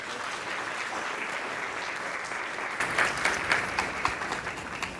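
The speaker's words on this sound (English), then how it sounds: "Let's give them one more round of applause." An audience claps at a school board meeting, a steady crowd applause that grows louder and more distinct midway with sharper individual claps, moderately distant and without talking.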